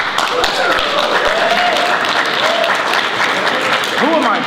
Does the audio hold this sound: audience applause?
yes